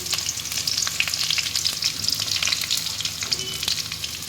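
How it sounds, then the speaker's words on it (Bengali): Chopped garlic sizzles steadily in hot oil in a pan, prepared for a loitta fish curry, with a dense, continuous crackling fry that stays loud and close throughout, no voices present. "পুড়ে পুড়ে গেলেই আমি রসুন কুচিগুলো দিয়ে দিলাম"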